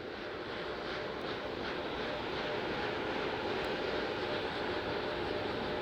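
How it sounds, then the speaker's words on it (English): Four RS-25 core stage engines gimbal during a thrust vector control actuator test ahead of the Artemis 1 launch, heard as a steady, loud broadband roar and hiss that holds level throughout with no talk. "The 4 core stage RS-25 engines gimbaling around, testing the ability to steer the rocket into space."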